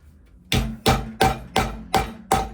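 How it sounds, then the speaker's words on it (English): Six sharp hammer strikes on a leather punch land at a steady rhythm on a hard surface, close and crisp, each ringing briefly before the next. "We're gonna hammer down."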